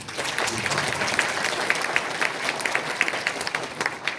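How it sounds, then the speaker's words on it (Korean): A room full of people applauding steadily at a politician's parliamentary report meeting, dense clapping that holds at an even level throughout. "박수 한번."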